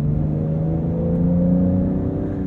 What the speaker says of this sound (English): You can also get the benefit of the baffles in the exhaust opening and hearing more of that flat six